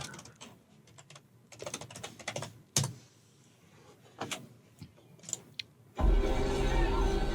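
Close keyboard typing in quick bursts of clicks with short pauses, ending in a sudden loud rush of steady noise.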